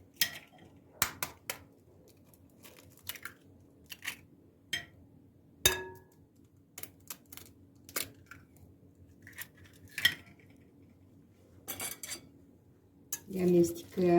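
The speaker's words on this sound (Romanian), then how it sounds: "Le amestecăm." Potato batter with three eggs being mixed in a bowl, irregular clinks and knocks of utensil against the bowl with quiet gaps between, close and fairly soft, a brief voice near the end.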